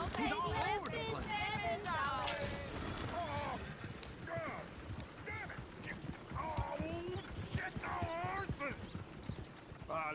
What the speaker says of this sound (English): Look at that coach.